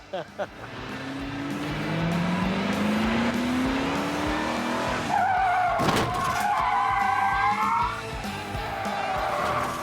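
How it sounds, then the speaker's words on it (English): A car skids and slides sideways across a strip in a test run, with a rising engine note giving way to a long, loud tire squeal sweeping in pitch, heard close, with faint voices around it. "Even though Brian slides in perfectly sideways and hits the very end of the strip, just like in Baby Driver,"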